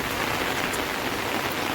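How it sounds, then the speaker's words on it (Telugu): Rain pours down on a home garden after strong wind, a dense, loud patter of drops striking leaves and ground that runs evenly through the short stretch, with no one speaking. "చూస్తుండగానే అలా వర్షం స్టార్ట్ అయిపోయిందండి."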